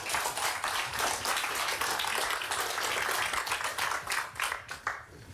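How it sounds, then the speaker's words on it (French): Studio audience at a round-table broadcast about athletes supporting schools breaks into steady, dense clapping that holds strong for several seconds before tapering off at the end. "On peut les applaudir."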